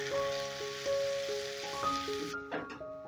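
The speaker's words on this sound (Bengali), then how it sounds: "এবার এই পেস্টটাকে ভালো করে ভেজে নেব যতক্ষণ কাঁচা গন্ধটা না যায়।" A spice paste sizzles and crackles steadily as it fries in a pan, with a metallic clink and a faint tonal hum over the hiss near the end.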